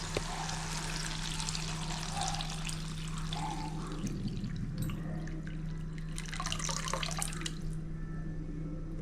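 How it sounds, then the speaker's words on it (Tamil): Tamarind water pours and trickles into a pan for fish curry, a soft continuous splashing with some dripping over a low steady hum; no one speaks. "இப்போ இந்த புளி தண்ணி இதில் சேர்த்துக்கலாம்"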